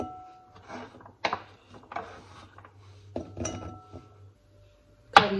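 A knife slices peeled rhubarb into small pieces on a board, making a series of separate sharp chops and clicks with short pauses between them. The cuts sound close and fairly quiet, ending in one louder knock.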